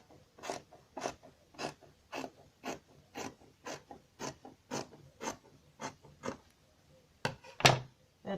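Rhythmic rasping snips of scissors cutting Ankara fabric pieces for a six-piece patch blouse, about a dozen evenly spaced strokes close by, with one louder sharp snip near the end.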